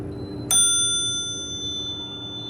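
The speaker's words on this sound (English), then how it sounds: "I'm gonna send this up and we'll ring the bell." A GAL hydraulic elevator's cash-register-style chime rings once, a sharp bright bell strike with a long shimmering ring that slowly fades over a low steady motor hum.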